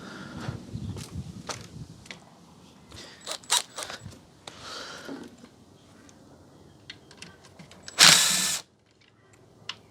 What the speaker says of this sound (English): I'm going to go and grab my driver.